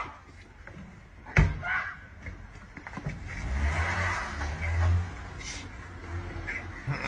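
A car engine starts and accelerates away outdoors, rising to a swelling rumble that peaks and fades, after a sharp thump and with a crow cawing nearby.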